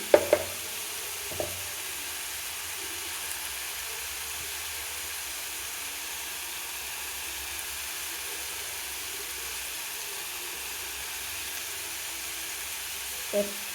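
Onion and garlic frying in a pan with coriander and curry leaves: a steady, faint, close sizzle and hiss that runs throughout, with a few light utensil clinks near the start and at the end.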